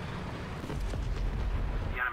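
Distant gunfire and battle rumble in the War Thunder video game, a steady low roar with scattered muffled bursts and booms throughout, no speech.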